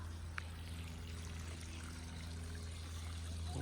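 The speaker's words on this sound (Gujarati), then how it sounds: "પાણી પાણી આપી દઉં એમને" Water poured onto garden plants during watering, a continuous close trickling and gushing stream over a steady low hum, with no voices.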